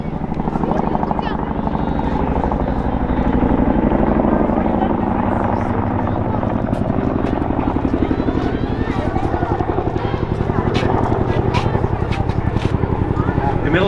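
A Boeing CH-47F Chinook military helicopter at a rescue event thunders close by with a loud, continuous rotor throb and engine roar that holds steady throughout, with people talking underneath.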